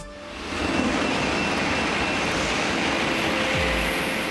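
A Japanese Shinkansen bullet train runs on rails, giving a loud, steady rushing roar that swells in the first half second and then holds, with no voices.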